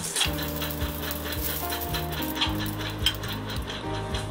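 Eggs fry in oil for Chettinad egg gravy, giving a steady close sizzle with occasional spatters beneath a background of tonal music.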